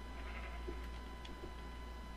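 Sheep bleat faintly in a Minecraft world, a couple of short distant calls over a steady low electrical hum.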